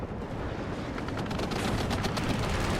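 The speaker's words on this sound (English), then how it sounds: "Livgarden eventually go down under machine gun fire." Machine gun fire in the war game WARNO, a dense continuous clatter of rapid shots mixed with distant explosions and battle rumble, loud and unbroken, with no talking.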